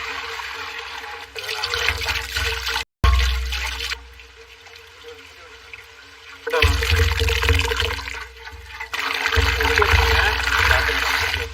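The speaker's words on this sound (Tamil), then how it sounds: "தண்ணி எல்லாம் நல்லா வடியும்." Water draining and trickling from freshly strained chhena (paneer curd) for rasgulla, squeezed in a cloth in an outdoor village kitchen; steady splashing flow in bursts with a short gap, with voices talking over it.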